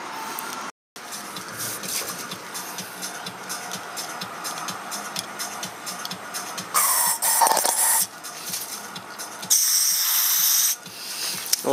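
Aerosol carburetor cleaner sprayed into the small jets and passages of a carburetor from an 8hp Mercury outboard engine, giving steady close hissing bursts, with two louder, brighter blasts near the end.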